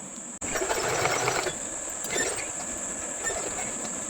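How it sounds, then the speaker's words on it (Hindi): A sewing machine stitches trouser fabric in a steady rapid whirring run with a high motor whine, starting abruptly after a brief pause and continuing close and clear with slight variations in pace. "तो यहाँ से मैं इसकी सिलाई स्टार्ट कर देती हूँ।"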